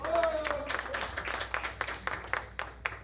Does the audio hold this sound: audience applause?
yes